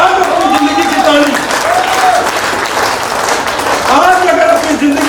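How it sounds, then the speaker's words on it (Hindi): A crowd at a company get-together claps loudly and continuously, with a voice speaking over the applause at intervals. "अगर आपको लगता है कि इनके साथ और भी लोगों को जाना है तो ताली आप बजा लीजिए।"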